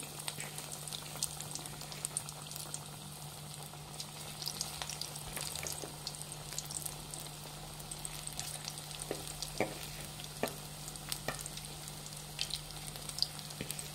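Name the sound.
dough balls frying in hot oil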